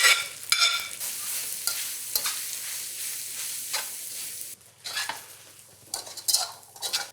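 Cabbage and mushrooms stir-fry with noodles in a hot pan, giving a steady close sizzle broken by repeated scraping and clinking stirs of a utensil against the pan.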